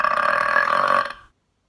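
A single long, loud burp lasting just over a second, rough and sustained before cutting off abruptly into silence.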